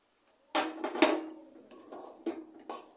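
A spoon works a rice flour and jaggery sweet mixture in a pan, sparse clanks and scrapes of metal on metal in separate strokes with quiet gaps between, nearby and without talk.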